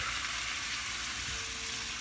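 Scallops and shrimp braising in a little broth in a pan, a soft continuous sizzle and bubbling hiss, steady and fairly quiet, with no voices.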